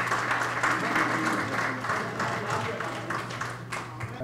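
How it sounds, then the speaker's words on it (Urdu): Audience applause at an Urdu literary evening, steady clapping from a crowd indoors welcoming a speaker, with a low hum underneath and faint voices mixed in. "اپنی بھرپور تالیوں میں ویلکم کیجیے"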